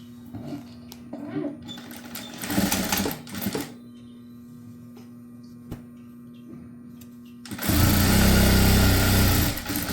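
Sewing machine stitching a prince-cut blouse seam, its steady motor whir bursting in short runs early on and then a loud sustained run near the end, with quiet pauses between.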